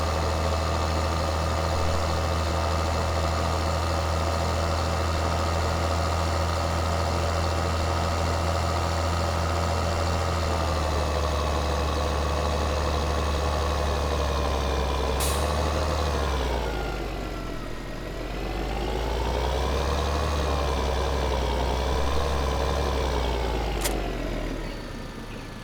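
A tractor engine idles in More Realistic Farming Simulator 2013, a steady, continuous low rumble that dips slightly partway through, with no talking.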